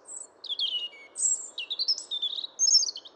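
A European robin sings a clear, close run of high, warbling phrases and thin trills, broken by short pauses, over a quiet background.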